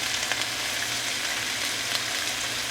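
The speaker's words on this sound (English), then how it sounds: "Oh, we are sizzling now" Constant crackling sizzle of food frying in a hot pan, close and steady throughout with small popping spits.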